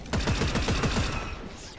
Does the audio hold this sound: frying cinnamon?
no